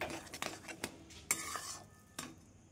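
A spoon scrapes and clinks against a pan while a sago laddu mixture is stirred, sounding as a few quiet, irregular metallic knocks and scrapes close by, with a faint sizzle beneath.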